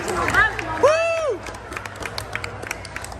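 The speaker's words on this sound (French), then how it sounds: "On sait pas pourquoi ils applaudissent." Scattered clapping from diners in the dinosaur-themed T-Rex restaurant at Walt Disney World follows brief voices, the light claps coming in quick bursts.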